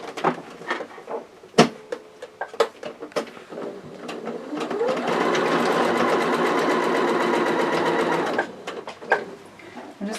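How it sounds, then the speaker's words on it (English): A sewing machine runs a steady burst of stitching for about three and a half seconds down the side of a tote bag, preceded and followed by small clicks and handling of fabric. "Then I'm going to sew down the side again until I meet that seam at the bottom."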